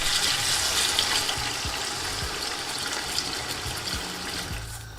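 Water poured into a cooking pot of Afghan Kabuli pulao sauce after the spices are deglazed, a steady close rushing gush that runs without a break, with no talk.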